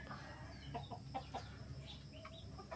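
A gamefowl rooster, a champion sire from a game farm, gives a few soft clucks and short calls, faint against a low background rumble.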